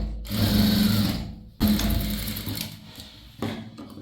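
A sewing machine stitches a folded edge on a chudithar top in three close bursts, a loud steady whir that stops briefly and restarts twice.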